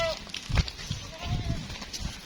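A goat bleats a few times in short, wavering calls, mixed in with people talking nearby.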